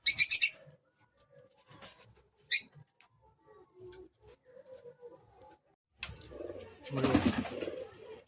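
Pigeons in a loft holding many baby pigeons give a few bright chirps early on, then soft low cooing and a rustling burst near the end, with no talk.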